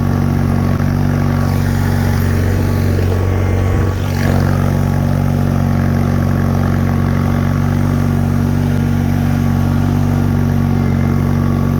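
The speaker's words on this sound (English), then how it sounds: "Laboring the engine a little bit driving through here." A tractor engine labors steadily while driving through deep, soft ground, a loud, continuous low drone with no talk over it.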